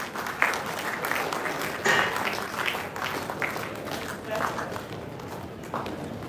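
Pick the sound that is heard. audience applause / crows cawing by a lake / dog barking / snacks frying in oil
audience applause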